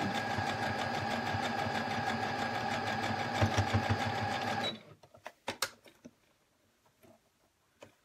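A sewing machine stitches mitten fabric in a loud, steady mechanical whir for several seconds, then stops, leaving a few soft clicks and handling taps.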